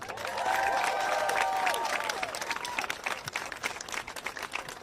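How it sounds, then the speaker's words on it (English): Applause from a crowd at a protest gathering at George Washington University, dense clapping mixed with a few cheers and voices, strongest early and then tapering into scattered claps. "give yourself a round of applause"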